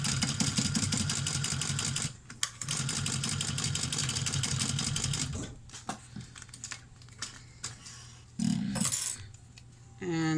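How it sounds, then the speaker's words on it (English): An embroidery machine stitches a vinyl mini backpack, a fast, steady mechanical rattle and clatter running loudly for several seconds, then breaking into intermittent clicks, thumps and short bursts of stitching. "I'm going to stitch down one side."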